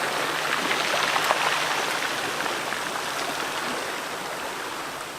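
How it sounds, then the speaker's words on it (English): Water washing onto a shoreline during a low-angle landscape photography session, a steady broadband rush of surf and spray that stays fairly close and even, slowly easing off, with no voices. "The water comes in."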